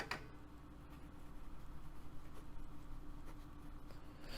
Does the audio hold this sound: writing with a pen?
yes